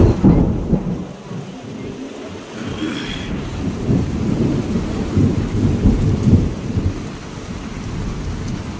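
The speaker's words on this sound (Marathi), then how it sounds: "विजा पण कडकडत आहेत." Steady heavy rain pours throughout, with a low rumble of thunder rolling underneath and swelling in the middle.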